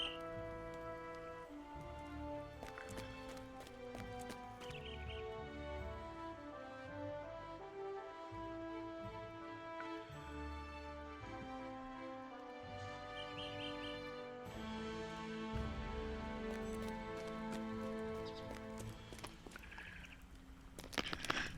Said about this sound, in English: The bird in the cage constantly makes noise.